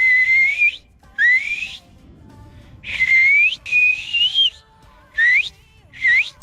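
Loud fingerless mouth whistles, six bursts in an uneven rhythm, each a sustained high tone that slides or wavers in pitch, with short gaps of near silence between them, close and alone.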